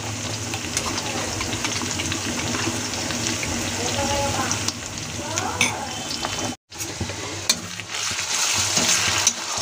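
Onions fry in a pan after cumin, green chili, ginger and garlic paste go in, giving a steady close sizzle with occasional stirring scrapes and a brief break partway through.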